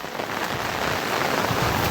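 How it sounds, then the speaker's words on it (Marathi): Heavy rain pours steadily, a dense, constant hiss of drops hitting surfaces nearby, with no voices. "एवढा पाऊस पडतोय"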